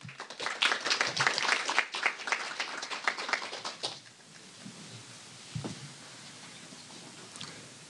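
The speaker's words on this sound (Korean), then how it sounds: "큰 박수로 환영해 주시기 바랍니다." Audience applause welcoming an ambassador to the podium at a forum session, a burst of many hands clapping loudly for about four seconds, then fading to room quiet with a couple of soft knocks.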